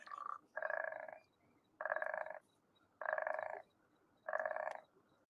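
Pac-Man frogs give four loud, buzzy croaks, each about half a second long, spaced evenly about a second apart, close up and with no voices over them.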